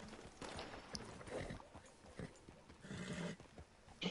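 Horse hooves clip-clopping at a riding pace in Red Dead Redemption 2 Online, a steady clatter of hoofbeats with a brief whinny, heard without talk.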